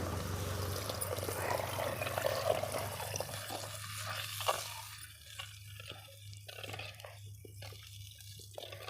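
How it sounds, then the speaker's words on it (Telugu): Tamarind juice poured into a fish curry of pilot fish simmering in a clay pot, a steady liquid rush lasting about five seconds and then thinning out over a low background hum, with no talking. "ఇప్పుడు చింతపండు పులుసు అయితే పోసేసుకుందాం"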